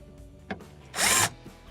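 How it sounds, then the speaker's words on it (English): A power drill drives a screw in loosely during a Hotpoint refrigerator icemaker repair, giving one short, close, loud whirring burst after a faint click, with no talking. "Now we're loosely putting that screw in."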